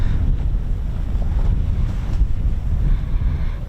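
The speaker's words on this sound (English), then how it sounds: "it's a bit windy" Strong wind roars continuously across the microphone outdoors at Holbeach air weapons range, a dense low rumble without a break.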